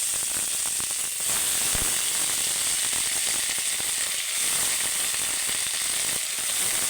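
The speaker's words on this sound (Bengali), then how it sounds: "ভালো করে ভেজে নেব সঙ্গে আমি ধনে পাতা কিছুটা দিয়ে দেবো" Tomato and spices for a rohu fish curry fry in a pan, a constant loud close hiss and sizzle with faint scraping and stirring throughout.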